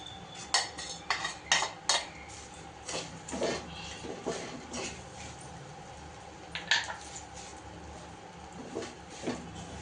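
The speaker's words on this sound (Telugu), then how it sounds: "ఇవన్నీ వేగినాయి కాబట్టి ఇప్పుడు కాకరకాయలు కూడా వేసుకోవాలి" Bitter gourd and curry leaves tossed into a pan for bitter gourd spice powder: intermittent sharp metallic clinks and scrapes of a utensil against the pan over a soft sizzling background, fairly close, with no speech.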